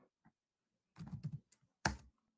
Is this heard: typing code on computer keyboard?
yes